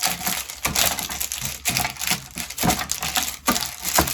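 The bottom of a glass presses and grinds nuts between parchment paper, making repeated close crunching strikes, roughly one every second, with crackling paper in between and no talk.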